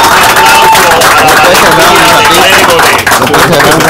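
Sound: crowd applauding the rescuers

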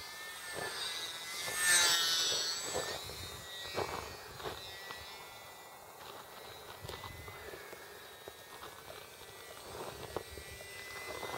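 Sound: Durafly Telemicro RC model airplane flying

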